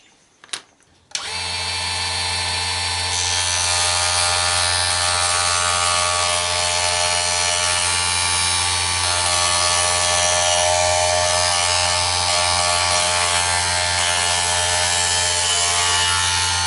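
A power tool cuts wood sleepers for scratch-built model coal bins, starting after a few quick taps and then droning as a loud, constant whine with a steady hum for the rest of the stretch.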